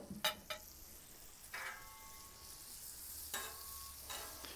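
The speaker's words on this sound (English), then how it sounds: "We're going to add a little butter." Butter melting on a hot Blackstone griddle gives a soft, faint, steady sizzle, with a few light taps and scrapes of a spatula against the metal.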